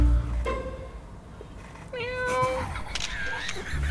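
A person imitates a cat, giving a few drawn-out, wavering meows at close range over busy background noise during a photo shoot.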